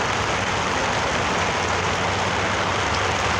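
Steady, dense rain falls close by as a continuous even hiss with no breaks, heard alone without any voices.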